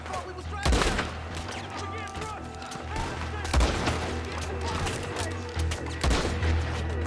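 Gunfire in the open-world western game Red Dead Redemption 2, with three loud sharp shots spaced a few seconds apart over a busy background of ambient game sound.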